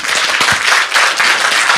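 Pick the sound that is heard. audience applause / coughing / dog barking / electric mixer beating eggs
audience applause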